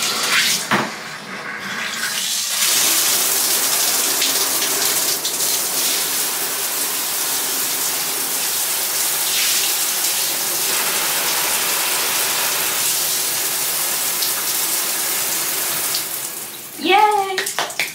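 Water runs steadily from a newly connected tap as it is checked for leaks, a continuous gushing splash that fills the scene for most of the stretch before tapering, with a brief squeak near the end.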